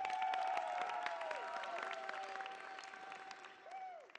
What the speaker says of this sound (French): Je vous demande de vous applaudir très fort.